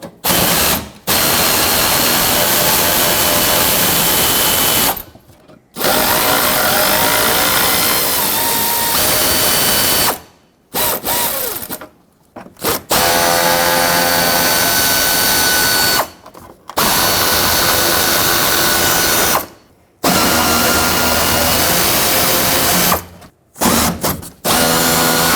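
Loud power tool whirring in long sustained bursts with brief pauses between, as 10mm bolts are removed from a Ford F-150 radiator support, close and with no talking.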